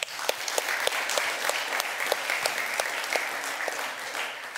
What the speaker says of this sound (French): donc on peut les applaudir.